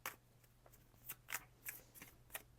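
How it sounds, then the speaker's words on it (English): Oracle cards being shuffled by hand: a quiet, close series of soft riffling bursts in uneven rhythm over a faint low hum, with no talking. "If you watched the shuffling of the cards, maybe you felt the energy during the shuffling."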